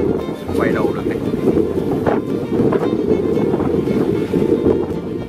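A Binh Dinh purse-seine fishing boat's large engine rumbles steadily and loudly as the boat heads out to sea, with wind buffeting the microphone and water noise throughout.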